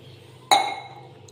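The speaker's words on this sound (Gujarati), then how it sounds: "1 ગ્લાસ પાણી લઈશું," A single sharp glass clink rings out and fades over about half a second, close and fairly loud, as a glass of water is handled over a pressure cooker holding onions and tomatoes.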